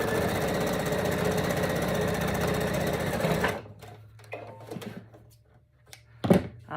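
A sewing machine stitches a seam on a patchwork fabric ball, its fast mechanical whirring loud and steady for about three and a half seconds before stopping, followed by a few faint handling clicks and knocks.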